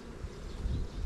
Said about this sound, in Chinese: 近距离感受一下这个蜜蜂